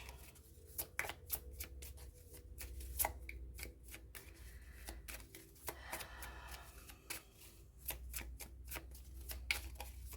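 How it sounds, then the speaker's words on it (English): A tarot deck, a past life deck, shuffled by hand in short riffling bursts and soft card slaps, close and fairly quiet, with irregular rhythm over about ten seconds and no talking. "I need to pull more cards before we go into the message."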